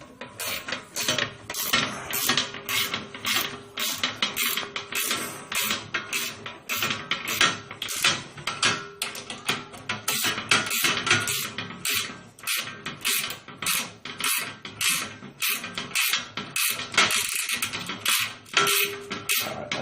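Rapid, repetitive metallic clicking of a 5/32 Allen wrench ratcheting a bolt tight during assembly, continuous and close for about twenty seconds with no talking.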